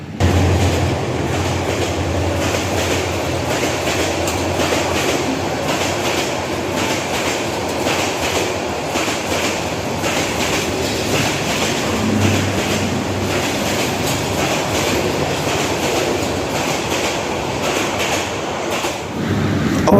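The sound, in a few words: Tista passenger train passing without stopping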